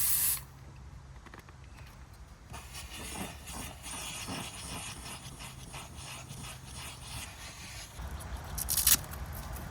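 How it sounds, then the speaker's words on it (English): Cleaner sprayed during a car interior detail: a steady hiss that runs through most of the stretch, with a sharper burst near the end and no talk. "I like to just give it a nice little spray over the top."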